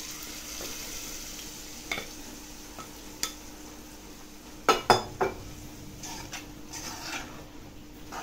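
Hath maaluwa being stirred and fried in a pan, with a soft steady sizzle under scattered clinks and scrapes of a utensil against the pan, including a short cluster of sharper knocks.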